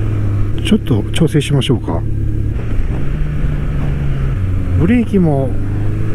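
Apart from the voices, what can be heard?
Honda CB1100 air-cooled four-cylinder motorcycle engine running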